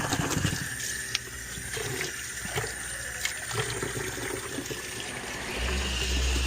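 Hand swishing through a sink of water to dissolve Snappy pad cleaning solution in a Lake Country pad washer, a steady close sloshing and trickling wash with a few splashy spikes and a louder surge near the end.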